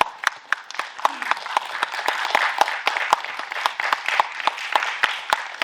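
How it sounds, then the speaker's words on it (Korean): An audience at a film press conference claps to welcome the director, a moderately loud patter of many individual claps, fairly sparse and distinct rather than a dense roar, continuing steadily throughout. "큰 박수로 맞이 부탁드리겠습니다."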